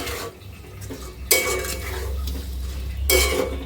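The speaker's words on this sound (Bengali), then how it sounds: "এখন নাড়াচাড়া করে দিই।" Fish heads and spices get stirred in a cooking pot, with a low simmering bubble under two sharp bursts of spoon scraping against the metal.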